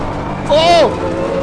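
A BMW race car on the Nürburgring Nordschleife sweeps past in a brief, close engine whine whose pitch rises and then drops away within about half a second, over steady cockpit noise.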